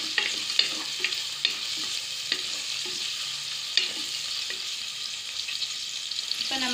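Vegetable biryani masala frying in a pan until golden, a steady close sizzle broken by occasional sharp scrapes and stirring clicks, with no voices.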